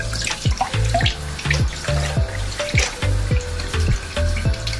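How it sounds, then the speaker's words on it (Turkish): Water drains and splashes from sheets of su böreği dough, a steady close stream like a running tap with rhythmic pouring bursts. "elimizde suyumuzu böyle süzülelim"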